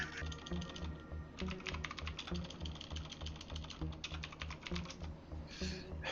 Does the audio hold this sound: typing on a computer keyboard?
yes